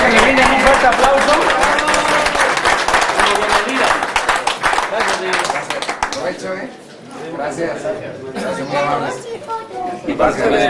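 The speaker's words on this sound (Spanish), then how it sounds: "Y quiero que le brinden un fuerte aplauso." An audience at a reception in Yavesia, Oaxaca claps loudly for a band, a dense burst of applause mixed with crowd chatter that fades after about six seconds into talking voices.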